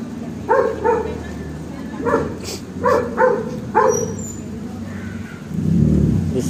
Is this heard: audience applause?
no